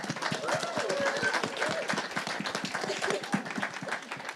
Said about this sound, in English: I want a round of applause first